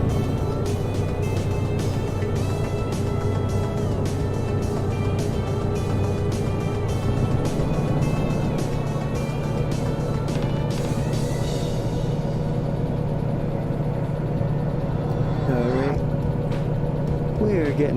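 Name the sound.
locomotive under throttle going uphill in Derail Valley video game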